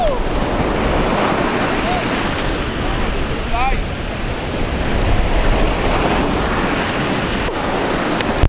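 Ocean surf roars steadily on a beach, a continuous wash of breaking waves mixed with gusty wind against the microphone.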